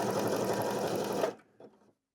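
A sewing machine set to a wide zigzag whirs loudly and continuously at close range for about a second, then stops abruptly, followed by a faint short mechanical rattle.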